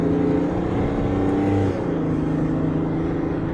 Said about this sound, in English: let's accelerate right here